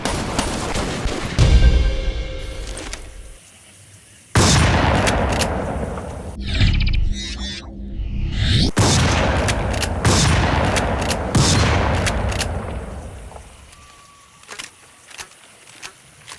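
Shotgun blasts from a first-person shooter video game, several loud close booms with reload clicks and mechanical handling between shots, plus a burst of rapid fire.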